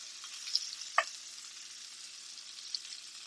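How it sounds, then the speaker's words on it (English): Butter sizzles faintly in a hot pan under a steady hiss, with a few sharp spits and crackles standing out, one louder pop near the middle, and no voices. "the butter is basically melted, and this is when you do this. Our butter bathing"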